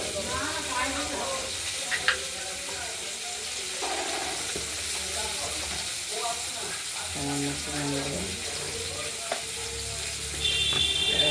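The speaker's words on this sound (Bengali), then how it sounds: "আলু আর বিন ভাজা হচ্ছে" Potatoes and beans fry in a pan with a little turmeric, a continuous soft sizzle with occasional stirring scrapes and clinks of a utensil, close by.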